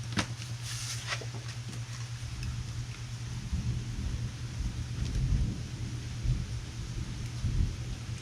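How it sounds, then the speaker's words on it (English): Thunder from a storm rumbles low and heavy, swelling in several rolling waves over a few seconds, with a faint patter of rain behind it. "you guys probably hear that thunder"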